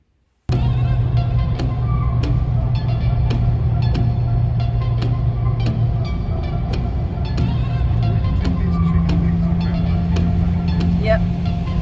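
A 2022 Ford Maverick fitted with lowering springs drives on the road, its steady engine and road drone holding at a constant level with cabin rattles and small clicks, and no talk over it.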